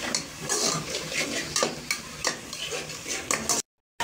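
Meat being stir-fried in a pan while cooking an aloo gobhi gosht curry, with steady sizzling and repeated scraping stirs from a spoon, close and fairly loud, ending in a brief silence.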